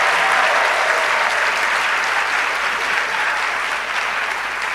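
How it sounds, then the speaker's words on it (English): Sustained applause from the audience at a medical and dental practitioners' induction ceremony, dense and steady and fairly loud, easing slightly toward the end, with no one talking over it. "Just kindly ensure the applause does not die down"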